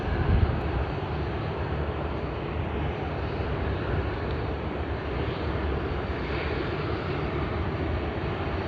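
An All Nippon Airways airliner taxies at Sydney Airport toward runway 34L, a steady broadband jet engine rumble and hiss holding constant at moderate distance with no talk.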